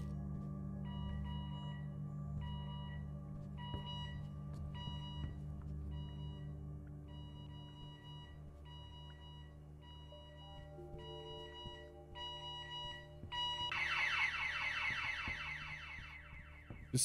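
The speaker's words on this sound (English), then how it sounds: "Steve, there's been an alarm set off." An alarm goes off in the video game The Occupation: a steady electronic beeping tone pulses continuously over a low droning hum, joined near the end by a harsher, louder ringing alarm layer.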